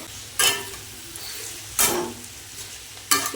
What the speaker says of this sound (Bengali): চিচিঙ্গাটা ভালো করে নাড়িয়ে নিয়েছি